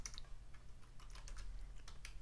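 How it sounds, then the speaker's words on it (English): Rapid typing on a computer keyboard, a steady run of light clicks and taps at close range with no talk over it. "let's start by typing in"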